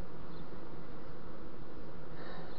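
A honey bee hive opened during a frame inspection, with a dense, steady drone of many bees buzzing close by, continuous and unbroken throughout.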